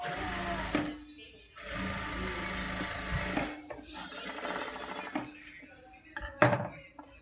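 A sewing machine runs in several bursts, stitching a katori blouse, with pauses and a sharp knock near the end; someone talks over part of it.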